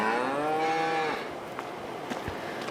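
A cow gives one long, close, loud moo in the Farming Simulator 22 video game, followed by quieter background farm ambience with faint clicks.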